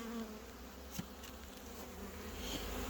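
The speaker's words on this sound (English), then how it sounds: "A lot of bees on the snow too." A faint, steady buzz of bees hums in a quiet outdoor setting with snow, with one soft tap partway through.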